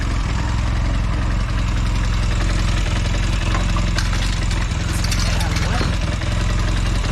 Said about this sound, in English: Says it's doing 1300 RPM at the moment, so I may need to adjust the idle a little bit.